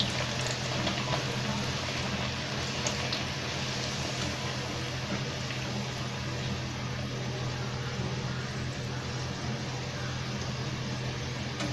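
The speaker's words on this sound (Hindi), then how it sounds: "मैंने रिफाइन तेल डाला है फ्राई करने के लिए भटूरे को" Bhature deep-frying in hot refined oil give off a continuous dense bubbling sizzle, even in level and close by, holding steady throughout with no talking.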